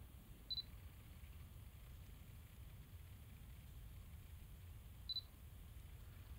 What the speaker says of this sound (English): That's just pressing all the way on the shutter, but no shutter action.